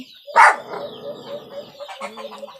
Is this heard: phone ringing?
no